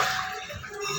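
Water poured out of a fish tank, a brief close splashing gush lasting about a second.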